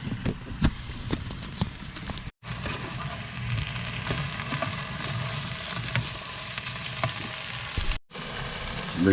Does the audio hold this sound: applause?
no